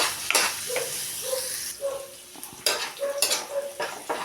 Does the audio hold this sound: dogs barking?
no